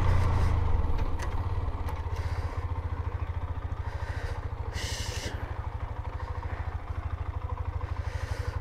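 A Hero Xtreme 125R FI motorcycle with ABS idles close by after a braking test, its engine giving a steady low rapid thrum with a brief louder rev at the start and faint clatter.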